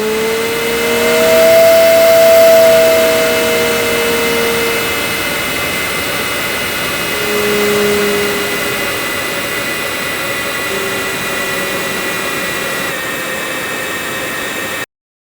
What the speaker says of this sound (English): The Starfighter has extremely strong resonances at higher RPMs, which can again be controlled using the character parameter